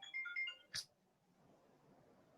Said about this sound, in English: the phone just decided to ring at a very inopportune time